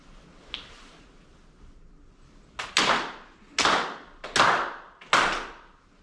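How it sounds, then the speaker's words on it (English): At a spring grand ceremony, a congregation gives four solemn claps in unison to open the service, each one a sharp, evenly spaced crack in an otherwise quiet room. "4 solemn claps together to open the service."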